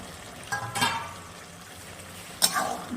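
Fried eggs dropped into a pan of simmering bottle gourd curry, giving two short sizzling, stirring bursts separated by a quiet stretch over a low kitchen hum.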